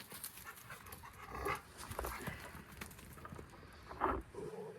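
A dog pants and gives low rumbling growls with small whimpers, close by and fairly quiet, with no voices.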